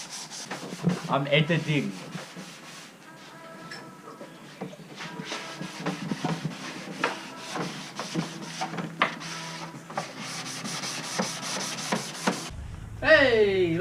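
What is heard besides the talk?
sanding a Rocket Bunny car diffuser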